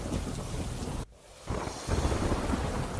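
Heavy rain in Veraval, Gujarat, driven by strong wind, makes a loud, continuous broadband roar that drops out sharply for a moment, then surges back with gusty rumbling.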